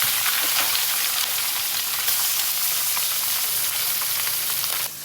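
Mola fish frying in hot oil in a wok, a steady dense sizzle that holds loud and continuous for several seconds before dropping slightly at the end.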